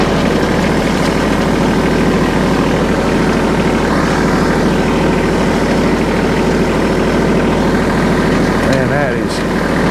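A tractor engine runs steadily at about 1,300 RPM while driving a hay stirrer across a farm field, a loud continuous low drone filling the whole stretch alone.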